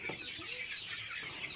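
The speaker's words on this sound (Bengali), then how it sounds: "এটা হলো সোনালী মুরগির খামার।" Sonali hybrid chickens, around 45 days old, cluck softly and continuously in a poultry farm flock of about 480 birds, a faint, busy background murmur of fowl calls with no talk.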